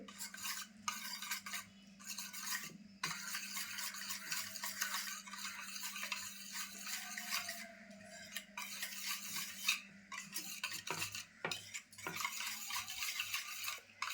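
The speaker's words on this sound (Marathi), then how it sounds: "ते व्यवस्थित ढवळून घेते" Milk mixture for kharvas, a Marathi sweet, stirred in a pot with a spoon, giving a steady scraping swirl with light metallic clinks that runs the whole time at moderate, close level, no voices.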